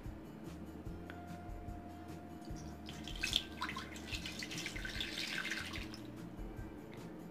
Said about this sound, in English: Now we have to soak this dough in water.